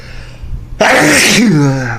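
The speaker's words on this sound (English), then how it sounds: "Sorry. I had to sneeze." A single loud, close sneeze bursts out abruptly after a quick inhale, trailing off into a brief vocal tail.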